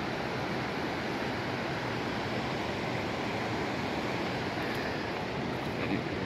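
The Belogorka waterfall in Kyrgyzstan roars with a steady, dense wash of rushing water that stays even and unbroken throughout.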